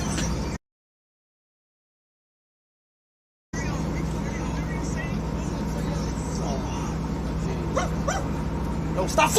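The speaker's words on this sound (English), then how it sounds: "Yo, stop fucking barking right now." A dog barks and yips in scattered bursts over steady background noise and people talking, picked up by an outdoor microphone at a production site, after a short dropout of total silence near the start.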